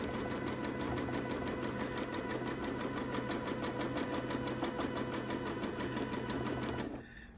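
A sewing machine stitches steadily along the long edge of a scrappy, spotty toddler quilt, its rapid even whir running loud and unbroken close by before stopping abruptly near the end.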